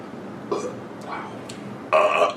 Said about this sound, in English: That's a fake burp.